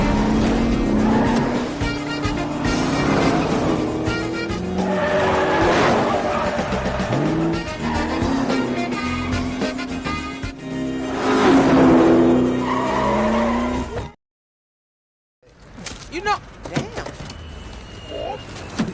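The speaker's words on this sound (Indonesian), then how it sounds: "dia mengemudikan taksinya dengan ugal-ugalan dan sampai di bandara kurang dari 10 menit" A taxi converted for racing is driven recklessly toward an airport, with loud engine revving, repeated tire squeals and skids, and a voice talking over the racket, before a brief silence and some quieter clatter.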